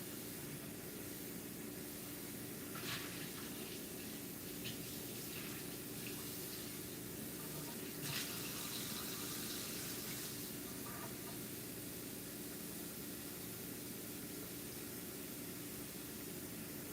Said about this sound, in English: I am going to fill it halfway up with water.